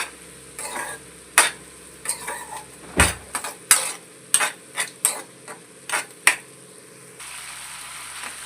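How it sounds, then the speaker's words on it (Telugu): Raw prawns seasoned with chili powder and salt fry in a pan for prawn biryani until their water cooks off. Close, rhythmic scrapes and taps of a spoon stirring against the pan sit over a steady sizzle. "వాటర్ ఇంకిపోయే వరకు ఫ్రై చేసుకోవాలండి పచ్చిరొయ్యల్ని"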